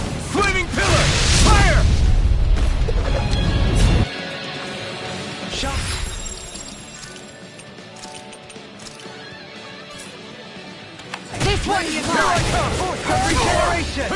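Fire spell explosions in the Tales of Arise video game, heavy crashing bursts at the start and near the end around a quieter stretch, with character voices shouting over the battle.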